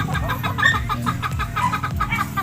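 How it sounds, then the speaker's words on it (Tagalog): Several chickens cluck and murmur continuously nearby, a busy overlapping chatter of soft clucks with a few sharper calls, no talking. "ito yung isa kong manok yun siya oh"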